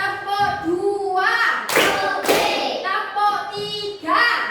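Children in a classroom clapping along in a rhythm ice-breaker game, sharp sets of claps counted out in sequence between voiced chanting, close and lively.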